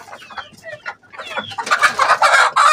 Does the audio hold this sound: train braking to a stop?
no